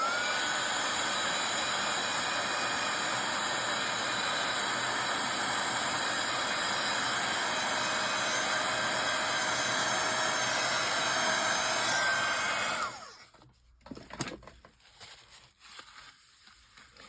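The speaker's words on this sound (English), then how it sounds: "you can dry it in between with your heat gun" Heat gun blowing steadily to dry embossing powder on a die-cut, a constant close whooshing hiss for about thirteen seconds before it cuts off, followed by faint handling clicks.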